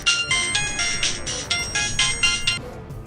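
A mobile phone ringtone plays in a home kitchen, a bright repeating electronic melody of quick notes in regular bursts that cuts off abruptly near the end.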